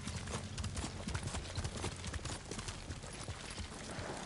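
Horse hooves gallop in Ghost of Tsushima, a fast, close and loud run of clip-clop beats that carries on steadily from start to end with no voices over it.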